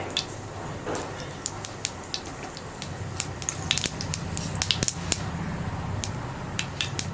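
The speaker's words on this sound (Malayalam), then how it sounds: "ഇതിലേക്ക് നമുക്ക് ആദ്യം ഒരു 1/2 ടീസ്പൂൺ കടുക് ചേർത്ത് കൊടുക്കാം. കടുകൊന്ന് പൊട്ടി തുടങ്ങട്ടെ." Mustard seeds splutter in hot coconut oil in a pan: sharp, irregular pops and crackles over a low sizzle, growing denser as they start bursting, with no talk.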